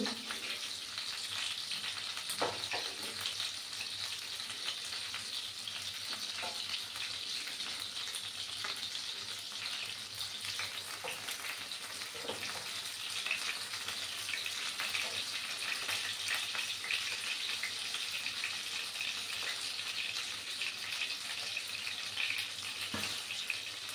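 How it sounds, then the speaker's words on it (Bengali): A whole bhetki fish fries in a pan, producing a continuous loud crackling sizzle with scattered pops, steady and unbroken for the whole stretch. "আরও কিছুক্ষণ আমাকে ফ্রাই করে নিতে হবে, তারপর আমি এটা নামিয়ে নেব।"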